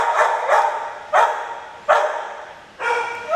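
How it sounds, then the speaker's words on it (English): Shelter dogs bark at a kennel as volunteers arrive with leashes: five sharp, loud barks at an uneven pace, close by, with reverberant kennel noise between them and no talk. "Everybody's barky because they see the volunteers in with the leashes and they know it's walk time."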